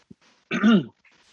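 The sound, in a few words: coughing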